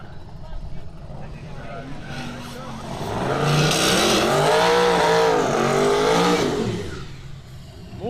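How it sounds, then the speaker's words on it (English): Turbocharged Chevrolet Silverado and newer Ford F-150 pickups drag racing side by side at a street-style event, engines swelling to a loud sustained roar with rising and falling revs, under a commentator's talk. "A couple of turbocharged tailgaters as we got the Silverado in the left lane and the newer F-150 here in the right lane."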